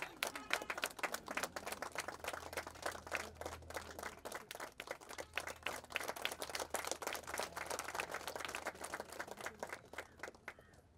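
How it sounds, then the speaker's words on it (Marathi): An audience at a ceremony opening a bio-diesel pump claps steadily for about eleven seconds, with dense, even, moderately loud applause and no pause. "मित्रांनो, जोरात टाळ्या झाल्या पाहिजेत."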